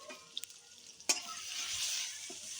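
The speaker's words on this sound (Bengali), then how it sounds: "এবার এগুলোকে নেড়ে চেড়ে কষিয়ে নেব।" Turmeric and chili powder being stirred and sautéed in a pan for a prawn and red amaranth dish, a few light utensil taps followed by a sharp clink and a rising hiss of sizzling, close and fairly quiet.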